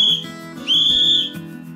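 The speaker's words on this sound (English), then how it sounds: "There's a ball in the whistle to give it some real sound." A shrill whistle blown twice in quick succession, a short blast and then a longer, steady one, close and loud.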